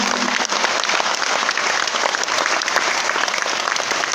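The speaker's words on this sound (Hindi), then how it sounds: "एक बार दोनों हाथ ऊपर करके ताली जोरदार वाली बजाएं सर" Loud, dense applause from a seminar audience of an RCM business meeting in Bhilwara, with both hands raised, sustained and steady throughout without pause.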